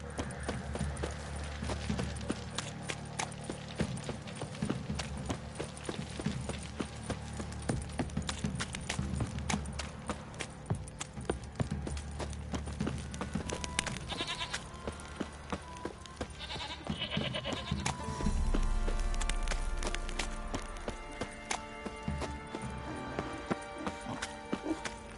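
Horse hooves clip-clopping in The Witcher Wild Hunt, a steady rhythmic trot played over game music and ambience, with an occasional whinny-like call mixed in.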